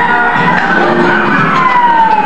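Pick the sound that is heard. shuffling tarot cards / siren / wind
siren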